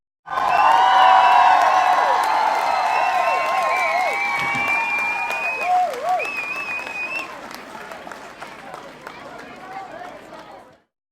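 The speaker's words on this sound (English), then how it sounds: "Give me some applause." Loud audience applause mixed with cheering and whoops from a crowd at a sales and leadership talk, a dense wash of clapping with rising voice shouts, sustained for around ten seconds before tapering and cutting off.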